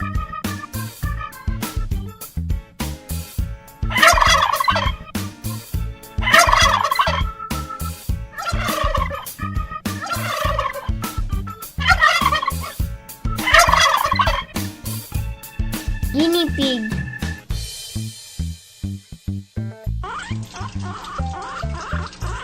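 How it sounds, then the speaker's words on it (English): A turkey gobbles in a series of about six rapid, warbling bursts spaced a couple of seconds apart, loud and close, followed by a short stretch of other animal and background noise. "Turkey."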